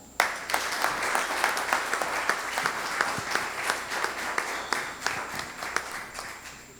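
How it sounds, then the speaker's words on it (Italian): An audience at an award ceremony in Venice, the Leone d'Oro international prize, applauds steadily to welcome an honoree. Dense, continuous clapping fills the room at even strength for about seven seconds, with no voices over it. "accogliamo con un grande applauso il dottor Alfio Montanaro"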